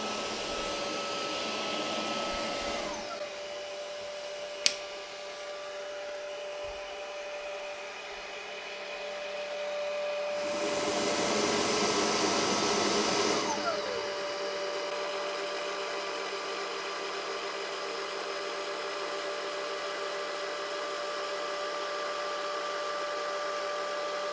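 A Tineco Carpet One Spot carpet cleaner runs its automatic cleaning cycle, a steady loud motor whir throughout with a brief click and a louder surge of rushing noise midway before settling back.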